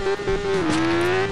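Truck engine in the video game Turbo Dismount, a loud steady motor whine with a slight dip and rise in pitch, running continuously up close.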